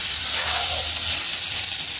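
Food sizzles and bubbles steadily in a cooking pot of ginataang upo as it is stirred, a soft, close, hissing crackle that lasts a couple of seconds with no talking.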